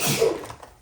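A single short, breathy sneeze, close and fairly loud, trailing off quickly.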